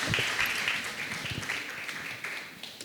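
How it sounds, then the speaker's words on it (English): Audience applause at a leadership panel during an inclusion forum and awards event, a modest round of clapping that starts fairly strong and gradually thins out over about three seconds. "Round of applause for him."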